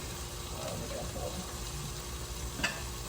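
Pork chops sizzle in a pan as a steady, close, continuous frying hiss with a faint clink near the end.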